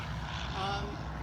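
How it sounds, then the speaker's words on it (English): A small piston-engine propeller plane drones steadily overhead, a continuous broadband engine roar holding at the same level throughout, with faint voices beneath it. "Those are the airplanes, obviously."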